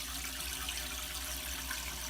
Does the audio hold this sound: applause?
no